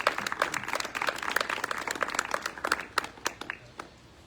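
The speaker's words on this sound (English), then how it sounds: "Let's give them all one more round of applause." A modest crowd at an annual meeting of the Y gives a round of applause: distinct, close claps that start brisk and full, then thin out into scattered last claps and fade.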